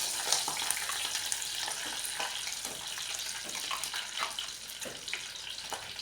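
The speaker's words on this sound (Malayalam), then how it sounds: "കടുക് പൊട്ടിക്കഴിയുമ്പോൾ കറിവേപ്പില ഇടാം." Curry leaves dropped into hot coconut oil with popping mustard seeds for a grandmother-style fish curry, giving a steady close sizzle with scattered crackles and small pops throughout, no voices.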